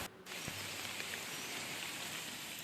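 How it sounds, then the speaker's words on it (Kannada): Heavy rain falling outside as a dense, even hiss that fills the clip after a short thud, steady and moderately faint with no talk. "ಹೊರಗಡೆ ದೊಡ್ಡ ಮಳೆ ಬರ್ತಿದ್ರೆ"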